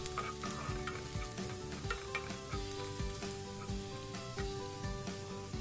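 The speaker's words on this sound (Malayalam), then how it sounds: "അതും നല്ലോണം ചേർത്തായി എണ്ണയിൽ നല്ലോണം വറുത്തെടുക്കുക കേട്ടോ." Chopped garlic and ginger fry in hot oil for a sweet corn soup, a dense, steady sizzle up close with frequent scraping and stirring taps of a utensil against the pan.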